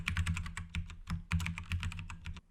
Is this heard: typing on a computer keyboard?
yes